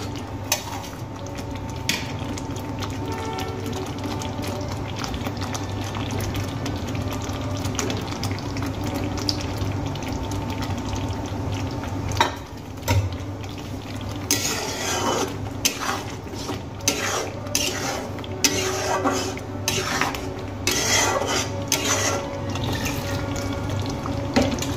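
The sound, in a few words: fried eggs added to masala and stirred in pan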